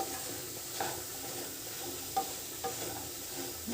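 Meal maker curry fries in a pan with a steady, fairly quiet sizzle, and a few soft stirring scrapes come through; no one speaks.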